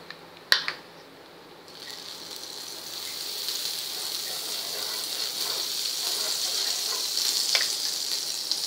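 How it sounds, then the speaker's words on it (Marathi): Butter sizzles on a hot tawa while dabeli are cooked, a soft tap followed by a steady frying hiss that builds and continues, close and moderately loud. "आता आपण तव्याला आधी बटर लावून घेऊया."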